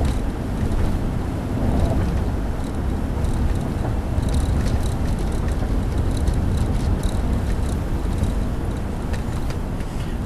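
Steady broadband road and cabin noise inside a 2001 Toyota Sequoia SUV while driving, with faint light rattling of loose items throughout and no talk.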